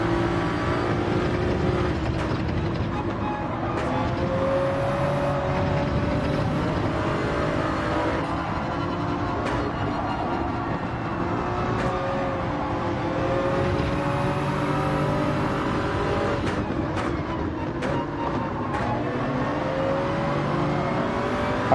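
A race car with heavy turbo lag in Gran Turismo 7 drives a lap at Fuji. The engine drones loudly and steadily throughout, with repeated rises in revs and short sharp shift or throttle cuts.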